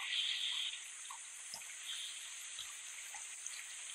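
Steady rain falls on a surface with a dense, continuous patter, and a few scattered drips stand out above the even wash of sound. No voices.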